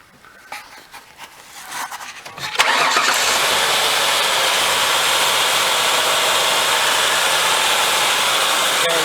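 A Ford Windstar van with a leaking water bypass tube cranks for a couple of seconds, catches and settles into a loud, steady idle close to the microphone that runs to the end.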